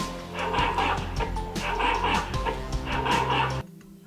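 A robot dog's bark repeats in quick, even bursts over a steady electronic hum, triggered by a sharp sound, then cuts off abruptly near the end.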